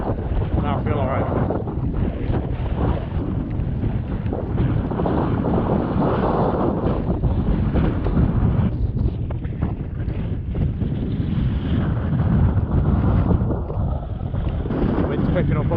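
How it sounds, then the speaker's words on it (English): Strong winter wind in the Snowdonia mountains buffets the microphone in a continuous loud, roaring gusty rush that fills the whole stretch with heavy low rumble and no break. "Wind's picking up a lot now."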